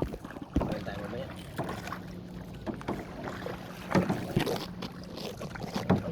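A kayak moves on choppy sea water at El Nido, Palawan, with paddle splashes and lapping water amid wind noise, while people chat nearby.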